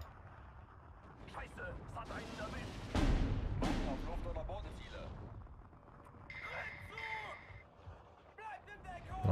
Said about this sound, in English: That's the mortar firing at the bunker.